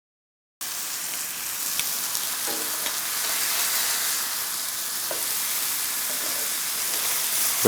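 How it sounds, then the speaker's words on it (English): Steaks searing in a hot pan, a steady loud crackling sizzle with scattered small pops, heard close and alone throughout after a brief silent start. "So I believe our steaks are done. This is a nice sear on them, gradually flipping them."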